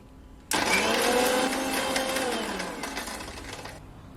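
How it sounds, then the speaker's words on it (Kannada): A mixer grinder blends roasted onion chutney with salt and a little water: a loud motor whine starts abruptly, holds for about three seconds with a rough grinding rattle, then cuts off, heard alone. "ಈಗ ನಾನು ರುಚಿಗೆ ತಕ್ಕಷ್ಟು ಉಪ್ಪು ಹಾಕಿ ಇದಕ್ಕೆ ಸ್ವಲ್ಪ ನೀರು ಹಾಕಿಬಿಟ್ಟು ನೈಸಾಗಿ ಇದನ್ನು ರುಬ್ಕೋಬೇಕು"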